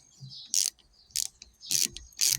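Four sharp clicking bursts come from a ratchet as set screws on a Kubota L3410 steering cylinder are tightened, evenly spaced with short quiet gaps between strokes.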